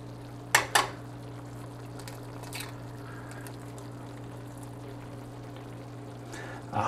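A pan with butter and olive oil gives a steady, even sizzle, broken near the start by two sharp clinks and later by a few softer knocks of utensils.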